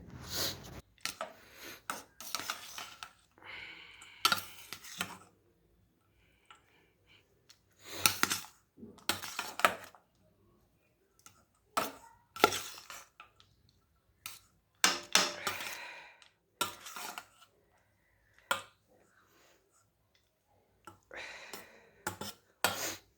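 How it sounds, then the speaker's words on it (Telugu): Tamarind pulihora being mixed with a ladle, heard as scattered clinks and soft scrapes against the vessel. The bursts are short and irregular, separated by quiet stretches, close by and fairly faint, with no talking. "ఇది మొత్తం కలిపేటట్టు ఈ గరిటతో కానీ చేతితో కానీ మంచిగా కలుపుకోవాలి."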